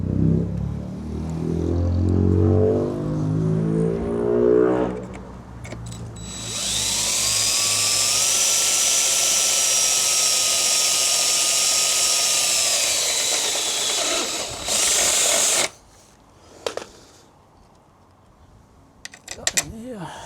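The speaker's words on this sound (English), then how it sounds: "So now we've got to drill this one." A power drill boring mounting holes for a Fiamma F45S awning on a VW Crafter van runs in one long steady whine lasting about eight seconds, then a short second burst, loud and close, with a brief voice at the start.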